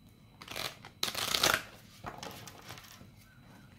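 Cards being shuffled for a reading: close riffling and sliding bursts, one short and a louder longer shuffle, then softer handling of the deck in a quiet room.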